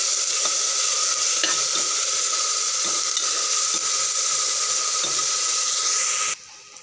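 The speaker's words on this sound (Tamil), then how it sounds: "பச்சை வாசம் போகிற வரைக்கும் நல்லா வதக்கணும் இஞ்சி" Steady loud sizzling of ginger-garlic paste frying in a hot pan, with occasional stirring scrapes, cutting off abruptly near the end.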